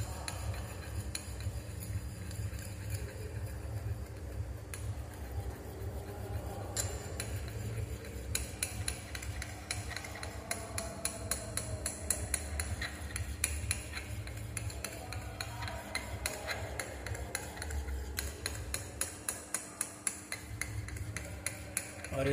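Vanishing cream mixture stirred in a glass beaker over a water bath, a rod tapping and clinking against the glass in quick repeated strikes, faint and steady over a low hum, with no voices.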